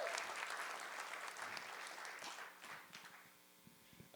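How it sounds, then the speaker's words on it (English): Applause at a purpose awards ceremony rings out full at first, then thins into a few scattered claps as it dies away, with faint murmurs near the end. "can we give a round of applause for Accelerist for helping us make this happen?"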